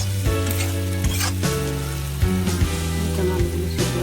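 Potatoes sizzle steadily in a pan for a village-style chickpea dish, with a continuous frying crackle under loud sustained musical tones.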